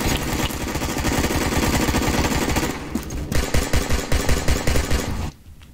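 An AK rifle fires long, rapid automatic bursts, loud and harsh, followed by slower spaced rounds in a steady rhythm before stopping abruptly.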